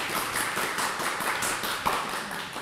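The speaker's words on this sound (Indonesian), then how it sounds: "Tepuk tangannya dulu boleh?" Dense, steady applause from an event audience, even clapping that continues at a constant level throughout.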